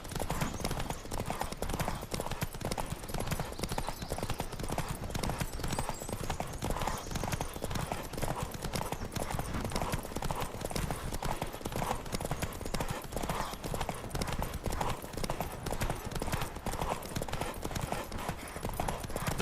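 Horse hooves galloping at full speed on Roach in The Witcher 3, a fast, continuous drumming of hoofbeats lasting throughout, loud and close, with game dialogue voices occasionally over it.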